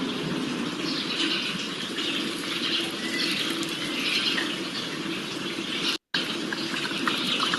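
Water poured steadily onto a potted ficus plant, a continuous splashing, gushing stream close by with one brief break, and no talk.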